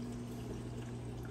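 A pair of Jebao SOW20 aquarium pumps, set up outside a 200-gallon saltwater tank, push water with a constant rushing, pouring flow, loud and steady throughout with no pauses or voices.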